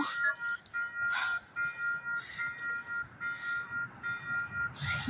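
A train waiting at a station at night as crossing barricades lower, heard as a steady faint hum with sustained tonal ringing, likely crossing bells or a warning tone, repeating at a distance with no talk.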